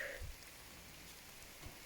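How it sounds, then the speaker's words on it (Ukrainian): Light rain begins falling outdoors, a soft steady hiss of drops spread evenly through the clip with a couple of faint low thumps, no voices. "О, знов пускається. Нічого собі. Нічого собі дощик."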